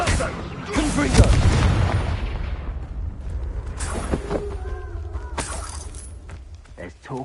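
Confringo blasting spell explosion from a wizarding video game, a loud burst with shattering crackle near the start, then further booming blasts and debris over a noisy game backdrop with voices talking.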